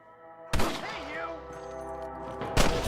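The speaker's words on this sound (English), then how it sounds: "More gunshots." Two sharp, loud gunshots in the video game Red Dead Redemption crack about two seconds apart, the first followed by a ringing tail and faint voices underneath.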